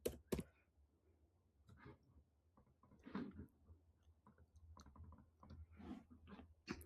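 Quiet computer mouse clicks, a few soft isolated taps spread across a near-silent room with faint rustling and breathy movement between them.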